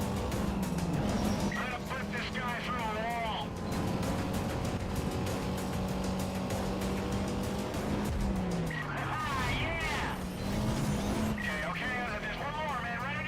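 A Chevrolet Camaro races in Need for Speed Carbon, its engine roaring steadily with repeated tire squeals and skids as it corners, loud and close throughout, with a voice talking faintly underneath.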